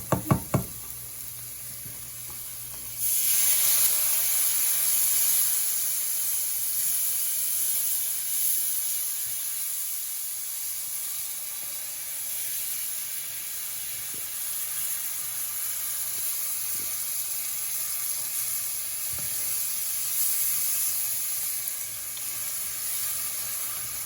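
Flour gravy being whisked in a hot pan for cube steak, sizzling and hissing steadily at close range after a few sharp knocks at the start, with faint tapping scrapes of the whisk.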